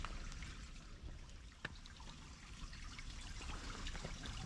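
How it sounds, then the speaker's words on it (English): A small river trickles through a forest, giving a steady, close rush of flowing water with a single brief knock partway through. "Look at this little river."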